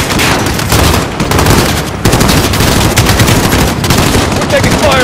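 Loud, relentless automatic rifle bursts and shots from a Call of Duty Modern Warfare assault on a residence compound, played on PS5, crackling continuously with short gaps and voices speaking over the shooting.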